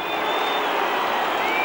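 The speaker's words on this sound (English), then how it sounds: "A marvellous afternoon once again at the Sydney Football Stadium. A very good crowd here" A big crowd at the Sydney Football Stadium at a 1992 Winfield Cup preliminary final between the Illawarra Steelers and St George Dragons gives off a steady, dense roar with no breaks.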